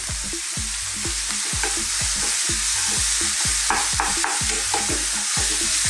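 Lean minced beef for a lasagne meat sauce fries in a pan. A spoon scrapes and stirs it in a steady rhythm of repeated strokes over a constant close sizzle. No one speaks.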